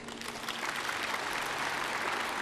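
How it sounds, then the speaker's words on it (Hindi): An audience at a spiritual talk on winter remedies gives a burst of dense, continuous clapping, loud and close, with no voice rising above it. "जोरदार ताली बजाओ इसके लिए।"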